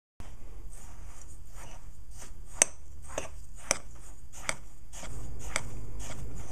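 Sugar, butter and graham cracker crumbs are stirred together in a bowl for a New York style cheesecake crust, making a run of soft, regular scraping and tapping strokes close by with a faint hiss underneath, and nobody talking.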